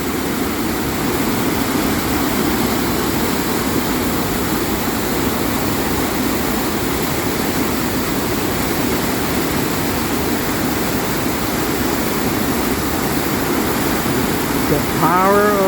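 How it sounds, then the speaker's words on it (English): Brown, rain-swollen water rushes through a small dam at Örebro, a loud, steady, broadband roar that holds unbroken for the whole stretch without people talking. "The power of the water."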